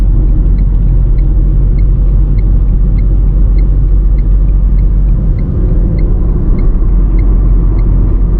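A car cruises on the Purvanchal Expressway, giving a loud, constant low road rumble and tyre drone with steady cabin noise throughout and no talking.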